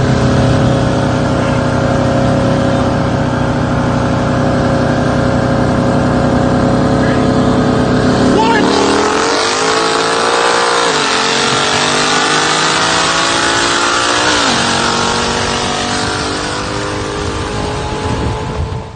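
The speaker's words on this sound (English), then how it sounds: "I raced a heads cam intake C6Z06" A Chevrolet C6 Corvette Z06 with heads, cam and intake upgrades racing on a street in Mexico, its engine roaring loud and close at sustained high revs, then shifting and pulling hard with rising and falling pitch sweeps.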